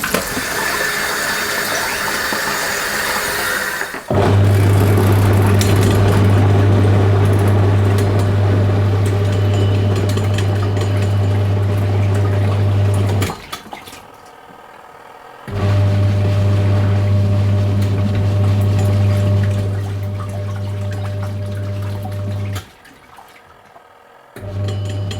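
Leisurewize Portawash portable washing machine running its final rinse: a steady low motor hum with sloshing water, stopping briefly mid-way and then resuming, close and fairly loud throughout.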